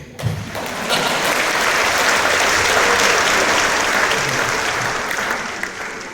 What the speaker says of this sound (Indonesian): Tepuk tangan separuh-separuh ya.